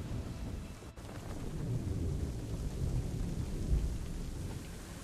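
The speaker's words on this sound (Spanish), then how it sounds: "Diría que ya es hora de intentar refugiarnos de esta tormenta, capitán." A thunderstorm with rain in the video game Assassin's Creed III: steady heavy rainfall and rolling thunder rumble throughout, loud and continuous, with a brief sharp drop near the start and no voices.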